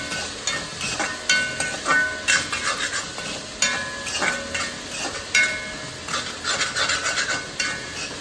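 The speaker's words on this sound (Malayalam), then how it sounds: "അത് ഒഴിച്ചു കൊടുത്തെങ്കിൽ നന്നായിട്ട് ഇളക്കി കൊടുക്കുക" A spoon scrapes and stirs tapioca biryani in a pan after coconut oil is poured in, rhythmic rasping strokes with a faint sizzle, close and steady, with no talking.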